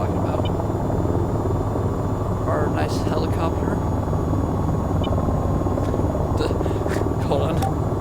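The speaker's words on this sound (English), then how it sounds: "Our nice helicopter." A helicopter rotor in the flight game VTOL VR drones steadily and loudly throughout, a dense low engine wash with faint higher chirps and clicks over it, and no talk.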